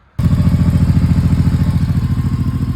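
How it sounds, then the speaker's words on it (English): A 1988 Honda VT1100 motorcycle engine catches suddenly after a brief quiet and settles straight into a loud, close, steady idle with a lumpy, pulsing beat. "I'm going to start the bike up, let it idle in my driveway for like 20 minutes."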